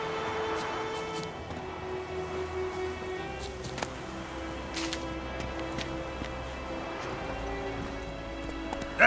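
Horse Roach in The Witcher 3 moves at a steady clip-clop of hooves over a continuous game background drone and music, with faint speech.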